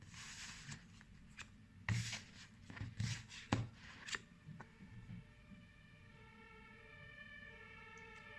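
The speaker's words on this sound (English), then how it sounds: "The sirens. Can you hear them?" Distant ambulance sirens wail faintly in the background, rising and settling, while closer clicks and rustling sounds come and go over them.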